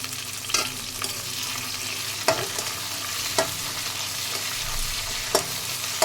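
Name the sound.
onions frying and being stirred in a pan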